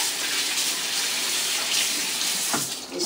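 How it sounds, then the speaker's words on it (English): Kitchen tap water gushes steadily as hands are rinsed beneath it, a close, continuous running stream with a brief splashy swell near the end and no speech. "Just do a quick rinse of my hands."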